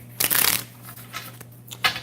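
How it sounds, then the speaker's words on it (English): A deck of tarot cards being shuffled up close: a dense riffling burst early on, then quieter shuffling and another short riffle near the end. "I'm going to shuffle this 2 more times"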